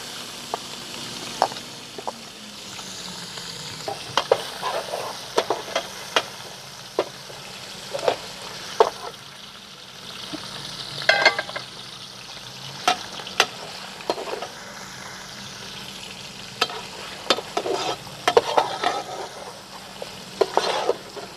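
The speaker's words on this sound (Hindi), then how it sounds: "चिकन को अच्छी तरह इसमें फ्राई कर लेंगे" Steady sizzling of chicken frying in a pan with ginger and garlic, with frequent clinks and scrapes of a utensil stirring throughout. No one speaks.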